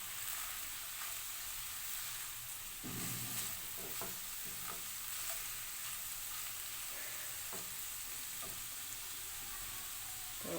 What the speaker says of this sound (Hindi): इसको करते हैं मिक्स।